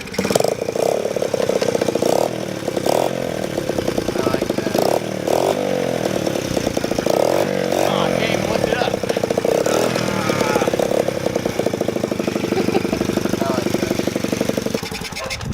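An old Honda XR70 dirt bike engine runs close by with a loud, buzzy small-engine drone and uneven revving throughout, voices talking intermittently over it.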